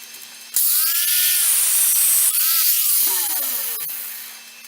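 A steel rivet for blacksmith railroad spike tongs being cut to length: a loud, harsh grinding whine starts abruptly and runs for about four seconds, its pitch sliding and wavering before it eases off.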